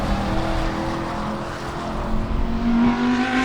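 Race cars in a Sebring GT and Spec Corvette feature race hold a continuous engine roar with layered droning tones, and one engine note rises toward the end.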